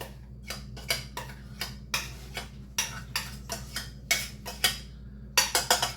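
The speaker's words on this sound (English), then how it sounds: "I have some peas and carrots from another meal. I'm gonna mix into here." Peas and carrots being mixed into a leftover rice and chicken casserole, a series of sharp spoon-on-dish clinks and scrapes in uneven bursts, close up with no talking.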